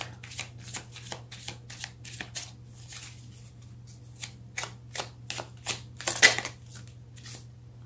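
Tarot cards being shuffled by hand in a quiet room, a long run of close, crisp riffling bursts with short pauses between them, alone without any talk.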